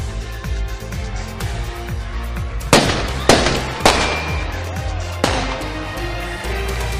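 Several sharp firework bangs burst out over a loud, rumbling crowd at a street protest, a few seconds apart, with crackling echoes trailing after each.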